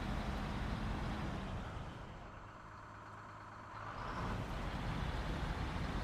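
A heavy truck in the video game SnowRunner, on a hard-mode Michigan map, drones steadily with a low engine rumble and road noise, dipping briefly in the middle before returning to full strength.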